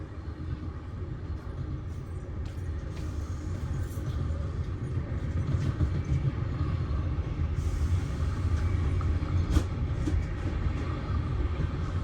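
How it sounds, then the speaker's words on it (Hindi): From inside a Rajdhani Express first-class AC coach, the Garib Rath Express passes on a parallel track. A steady low rumble of wheels grows slightly louder and fuller midway, then holds. "लेकिन यहाँ पे देख रहे हैं भाई साहब गरीब रथ एक्सप्रेस अपने को ओवरटेक कर रही है"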